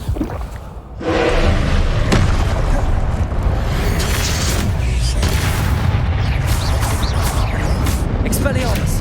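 Fire spells being cast and blasting in Hogwarts Legacy, a sustained roaring rumble with heavy booming impacts that is loud and continuous, and a voice shouting spell names over it.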